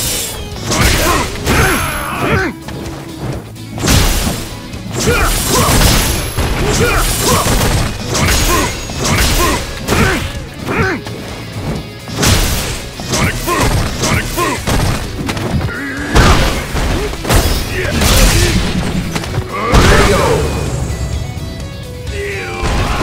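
Street Fighter V combat sounds, with repeated Sonic Boom projectile attacks, rapid punchy impacts, thuds, crashes and whooshes layered with music, loud and continuous, while in-game voices call out over the action.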